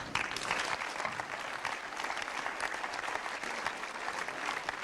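Fans at a 1997 state championship football gathering, Lake vs. Defiance, applaud themselves in a dense, sustained round of clapping that stays loud and even, with no talk over it.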